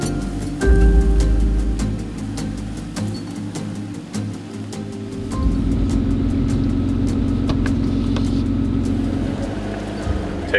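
A pickup truck drives over rough ground, its engine a low steady rumble from inside the cab, with bumps and rattles knocking through and a thud as it shifts partway in.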